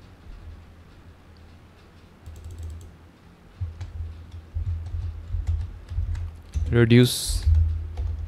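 Keystrokes rattle on a computer keyboard during a UI/UX design session, a steady run of light clicks that grows busier midway, with a voice speaking briefly over the typing.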